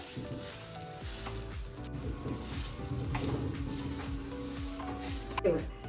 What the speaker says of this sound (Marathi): आता हे सगळं एकजीव करून घेऊया.